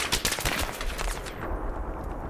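Battlefield 3 gunfire aimed at a tank: a fast, loud burst of automatic shots for about a second, then fading into a lower rumbling tail.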